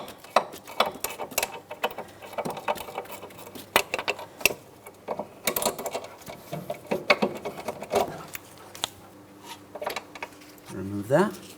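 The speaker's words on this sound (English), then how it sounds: "I'm going to be using a 15mm ratcheting wrench" A 15mm ratcheting wrench loosens a nut on a 2003-2007 Cadillac CTS front suspension, producing a series of small metallic clicks and ticks in uneven bursts. Each burst is close and fairly quiet.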